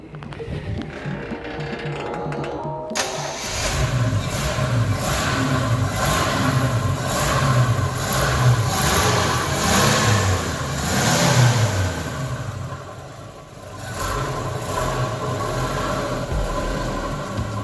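The 250 inline-six of a 1968 Chevrolet 400 SS kicks in after a few quiet seconds, then runs close and steady while being revved in repeated rising and falling swells.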